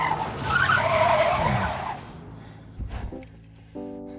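A car's tires skid and squeal loudly for about two seconds as it pulls over, then fade into quieter mechanical clunks and a short tonal hum.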